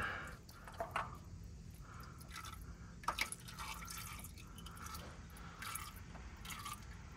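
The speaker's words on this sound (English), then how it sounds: "So you're just gonna let it drip" Motor oil dripping from the drain of a 2015-2021 Subaru WRX STI during an oil change, faint irregular drips close by over a low background hum.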